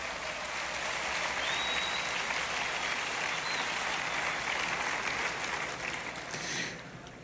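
Sustained applause from a congregation at a religious conference, a thick continuous wash of clapping at steady volume, with a brief whistle-like tone in the crowd and a slight tapering at the end.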